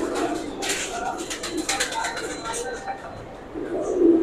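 Feroz Puri pigeons coo softly in a loft, low murmuring calls repeating under someone talking over them.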